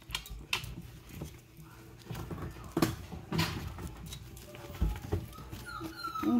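A sleeping newborn puppy in a whelping box whimpers and yips softly while dreaming, giving a few faint, scattered high cries over quiet rustling and patter.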